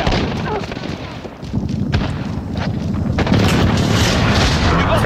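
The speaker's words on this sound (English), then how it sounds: "enemy precision airstrike inbound" Precision airstrike explosions thunder in Call of Duty: Modern Warfare multiplayer, a dense rolling barrage of deep booms and crackling blasts that builds louder toward the end, with voices talking over it.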